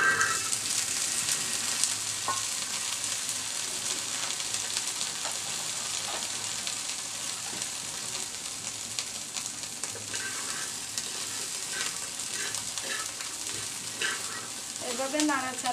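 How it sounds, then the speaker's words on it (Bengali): Bet brinjal, a small wild eggplant, sizzles and chars in a frying pan while being stirred, giving a steady dense crackle with occasional scrapes and clicks throughout. "এভাবে নাড়াচাড়া করে করে বেড বেগুনগুলোকে একটু পোড়া পোড়া করে নিতে হবে"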